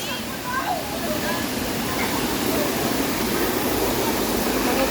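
Steady broadband rush of a waterfall on a nature trail, constant and fairly loud throughout, with faint voices and footsteps mixed in underneath.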